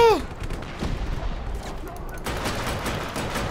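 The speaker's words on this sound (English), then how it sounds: "Shoot him! Shoot him dead!" Gunfire in the video game Just Cause 3: a loud opening crack, then a few scattered shots and a rougher burst of fire over a dense game soundscape.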